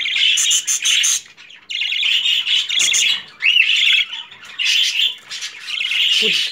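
Fifteen budgerigars in a double cage chirp and squawk in busy, close bursts of rapid high chatter, broken by brief pauses.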